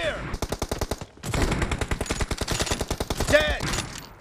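Rapid automatic gunfire from a PUBG match, dense bursts of loud close shots in quick rhythm with a brief pause near the start, a short game voice callout mixed in.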